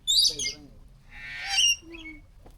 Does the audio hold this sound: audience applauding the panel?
no